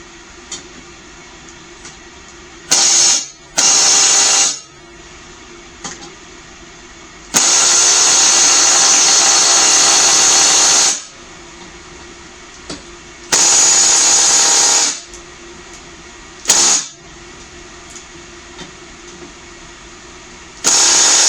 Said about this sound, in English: And use a 14mm to take the blade off on this one.